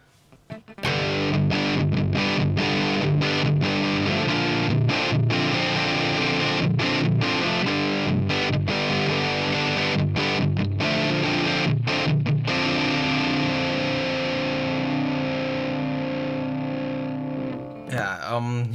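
An Evil Sound Lab Malefica guitar distortion pedal on its initial mostly neutral preset, heavily distorted electric guitar playing dense palm-muted chugging riffs with short stops, loud and continuous, ending with a brief ringing fade.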